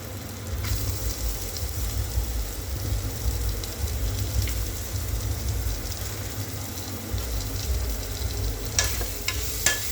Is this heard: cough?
no